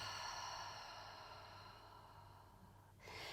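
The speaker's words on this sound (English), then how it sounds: "And exhale through the mouth." A slow, soft breath pushed out through the mouth during a calming yoga routine before sleep, faint and airy, tailing off before a brief rise in breathy noise near the end.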